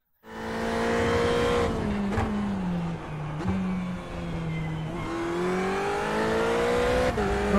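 A Ferrari race car in the iRacing sim holds a loud, close engine drone, with pitch rising and falling through gear shifts and braking across a lap, and faint tire squeal, with no talk.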